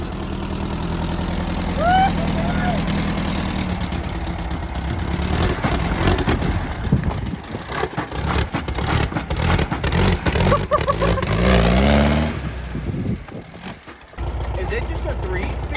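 A 1970s VW sand rail engine runs and drives, its rough mid-pitched air-cooled rumble rising and falling as it revs and shifts, loud and close, with people talking over it throughout.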